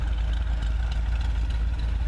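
A 1978 Corvette engine idles steadily after a winter startup, a continuous low rumble with a deep exhaust drone, close by and without talk.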